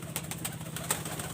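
Pigeons, Salara and white golden breeds kept by a breeder, make soft low cooing close by, with light rustling and faint chirps mixed in over a quiet background.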